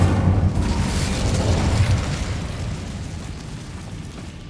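A fiery Incendio spell blast in Hogwarts Legacy, a loud roaring whoosh of flame that swells at once and then slowly decays into a fading rumble, with no talking over it.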